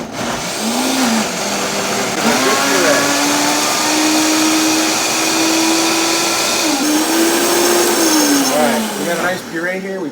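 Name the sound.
blender pureeing Mexican black bean soup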